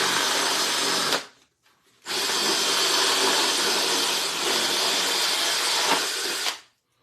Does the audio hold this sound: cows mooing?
no